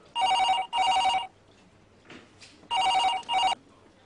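A telephone rings twice in close, loud double bursts of an electronic trill, with a short quiet gap of faint room sound between the pairs.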